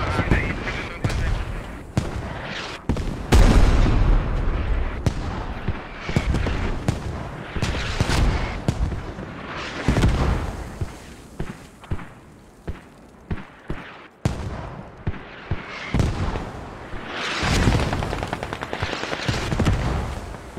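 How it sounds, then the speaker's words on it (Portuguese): Video game gunfire crackles in repeated sharp bursts and single shots, some rapid like automatic fire, with quieter gaps between volleys. "O som do tiro é bem realista."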